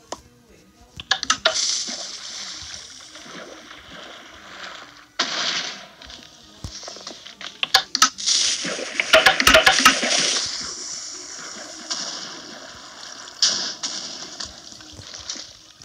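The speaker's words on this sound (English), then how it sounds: "Throw this water bucket out." Water splashing from a bucket thrown out in a video game, a few bursts of splatter and gushing with clicks and game sounds around them, over quiet background noise.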